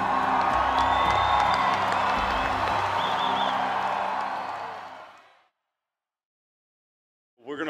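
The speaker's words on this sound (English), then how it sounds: "Man, this crowd is awesome." A large arena crowd at the Bassmaster Classic fishing tournament roars, cheers and whoops loudly and steadily for about five seconds before fading into silence, then swells again briefly at the very end.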